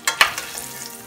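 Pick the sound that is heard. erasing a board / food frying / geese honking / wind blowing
food frying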